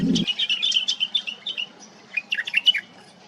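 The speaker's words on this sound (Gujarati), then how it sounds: "આ અભયારણ્ય અત્યારે શિયાળામાં પક્ષીઓના કલરવથી ગુંજી રહ્યું છે" Many wild birds chirp and call together at Khijadiya bird sanctuary in winter. The calls come in dense, overlapping bursts of high tweets, with a short low thump right at the start and no one speaking.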